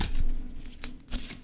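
Tarot cards are shuffled up close, giving a series of crisp papery riffles and soft slaps in quick irregular bursts, heard alone in a quiet room.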